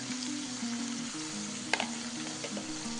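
Onions sizzle steadily in a pan while being stirred, with a low sputtering hiss throughout and one sharp scrape or clink near the middle, close and moderately quiet, no voices.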